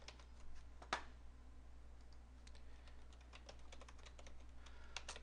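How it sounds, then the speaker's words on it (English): Quiet, close computer keyboard typing, a run of light irregular key clicks with one sharper keystroke, entering a command at a Visual Studio 2008 command prompt. "I'm going to type in gacutil"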